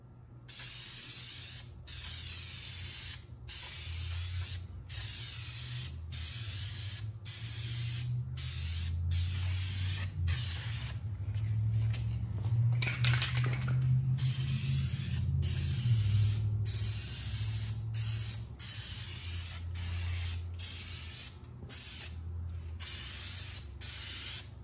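A spray can applies Plasti Dip rubber coating to a Buell XB9SX motorcycle in a long steady hiss, broken by brief pauses where the nozzle is released, with a slightly spattering tip.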